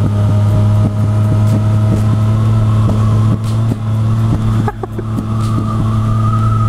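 A KTM Duke 125 motorcycle idles or runs at low revs close by, a steady droning single-cylinder hum with a regular pulsing rhythm and a brief dip in level partway through.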